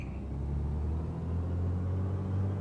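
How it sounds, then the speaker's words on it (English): Twin engines of a Black Square Baron in a flight simulator throttle up, a steady, dense low drone that holds strong and even throughout. "let's go ahead and bring our throttles all the way up"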